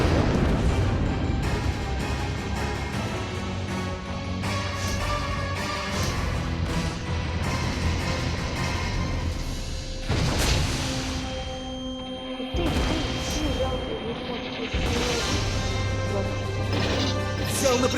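Explosions and crashing booms in a naval battle video game with warships, loud and dense over a busy layered game soundtrack, with a sharp blast near the middle and more impacts later.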